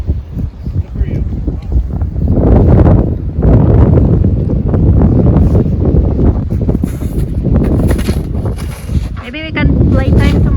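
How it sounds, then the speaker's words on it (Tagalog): Strong wind in a snowstorm buffets the microphone in heavy, booming gusts that rise and fall in waves, with people talking intermittently through the blustery roar. "It's windy."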